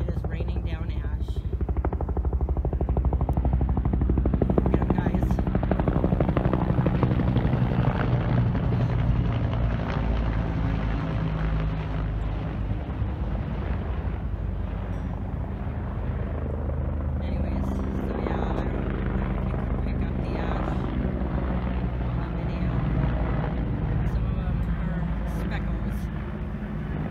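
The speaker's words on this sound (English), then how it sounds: "We have at least 2 helicopters that I've counted using Lake Elsinore." Helicopters drawing water from Lake Elsinore during a wildfire thump continuously with a heavy rotor drone, close and loud for the whole stretch, with voices speaking over it.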